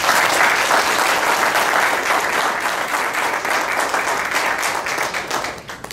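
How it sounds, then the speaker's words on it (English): An audience at a Republican congressional candidate forum in Dauphin County, Pennsylvania, claps in a loud, dense, continuous round of applause that lasts several seconds and fades slightly toward the end. "if we can give him a round of applause"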